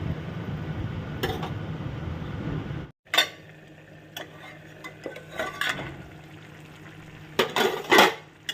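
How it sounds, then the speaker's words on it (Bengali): Taro being stir-fried on a low flame, a faint sizzle broken by a spatula scraping and clinking against the pan in irregular bursts, close by and with no voices. "লো ফ্লেম করে করে কষাবে, ফ্লেম বাড়াবে না"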